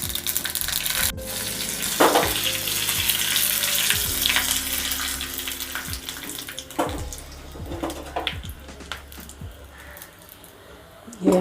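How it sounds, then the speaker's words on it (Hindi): Mustard seeds crackling and sizzling in hot oil as a tempering for besan dhokla, a steady frying hiss broken by scattered pops, with a person speaking over it at times. "देखिए राई हमारा चटक रहा है।"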